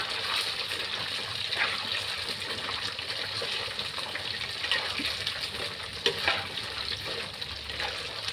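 Tofu frying in hot oil while preparing crispy tofu, giving a steady broadband sizzle with crackling bursts that continue without pause, close and moderately loud, with no talking.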